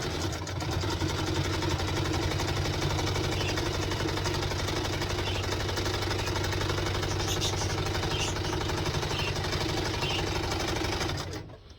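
A sewing machine stitching a terry cloth menstrual pad runs in one steady, loud, close mechanical whir with a fast needle rhythm that stops abruptly at the end.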